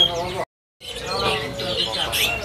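Mugimaki flycatcher singing at a bird shop kiosk, a busy run of bright chirps and warbling notes broken by a short silent gap, heard close amid shop noise with voices talking.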